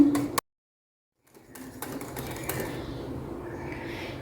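Cream and condensed milk being whisked by hand in a bowl for a yogurt cream fruit chaat: after a short silence, a steady close scraping and rattling whisk texture runs continuously with small clicks.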